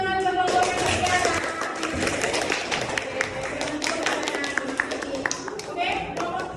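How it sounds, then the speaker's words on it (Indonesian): Classroom applause for a student group after their presentation at an Islamic junior high school, a burst of many hands clapping close by, with voices talking over it. "kita kasih tepuk tangan ke kelompoknya Mbak Tiara"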